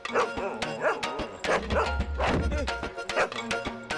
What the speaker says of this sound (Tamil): இங்க ஒரு கொலவெறி பிடிச்ச நாய் இருக்கடா உள்ள